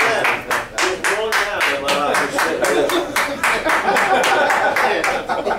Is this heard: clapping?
yes